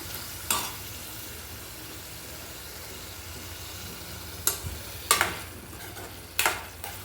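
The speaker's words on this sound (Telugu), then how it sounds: "మధ్య మధ్యలో ఇలా కలుపుకుంటూ ఉండాలి." Mutton liver fry stirred in a pan, a soft continuous sizzle with a few sharp scraping clinks of the spoon, close and moderately loud, no talking.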